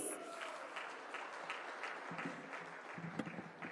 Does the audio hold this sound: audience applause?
yes